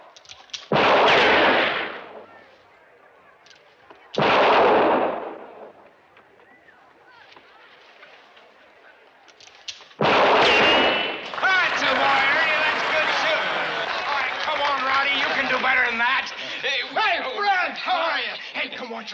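Guns fire at target practice in an old Western setting: two single loud shots a few seconds apart, then a sustained burst of firing mixed with voices and commotion.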